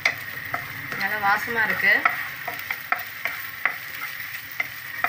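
Ingredients for coconut rice sizzle in a pan as a spoon stirs them, scraping in quick irregular strokes over a steady frying hiss; a voice speaks briefly.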